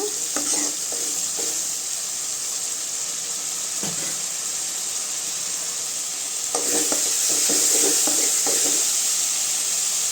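Ginger garlic paste frying with softened onions in a pan for goat intestine curry, a steady close sizzle with intermittent scraping stir strokes throughout.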